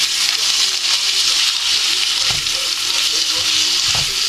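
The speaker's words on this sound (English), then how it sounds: "give it a good stir" A moussaka mince mixture fries in a pan with a constant loud, close hiss and sizzle. A spoon pushes through it in a couple of soft scraping stirs, and no one speaks.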